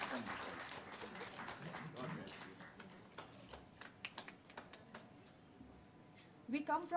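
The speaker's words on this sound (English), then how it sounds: "We can give them a big round of applause." Applause at an international education conclave and award ceremony, thin scattered clapping from a hall audience, fading into sparse individual claps, with talking partly over it.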